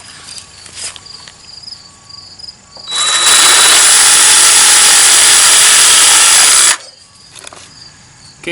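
A power saw cuts about an inch off the tail ends of a slingshot jig piece in one loud, harsh whine of nearly four seconds, with quieter workshop clatter before and after.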